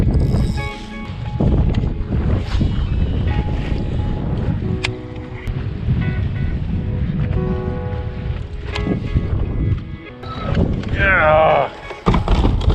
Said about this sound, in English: It's starting to get really windy though.